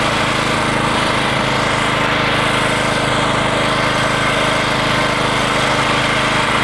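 A Greensmaster 1600 reel mower runs steadily and loudly close by, its engine drone and spinning reel forming a constant, unbroken whir with no pauses.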